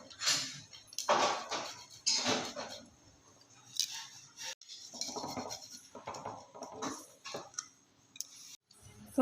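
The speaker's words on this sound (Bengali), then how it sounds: "প্রথমে আমি আলুটাকে গ্রেট করে নেবো" Boiled potatoes rubbed across a metal grater, giving repeated scraping, clinking strokes close by in an uneven rhythm, with short pauses between bursts and no talking.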